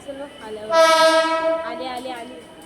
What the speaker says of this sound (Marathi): इकडे ट्रेन आले बघा.